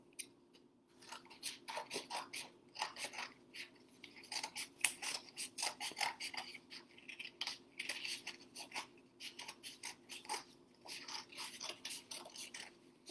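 Scissors snipping paper to cut out a hot air balloon shape, a quiet, close run of rhythmic crisp cuts and rustles with brief pauses.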